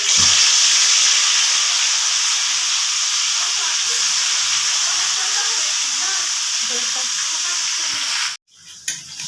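Goat meat hits hot oil with whole garam masala, cinnamon included, for a kosha-style curry. A loud, steady sizzle and hiss with stirring carries for several seconds, then cuts out suddenly near the end.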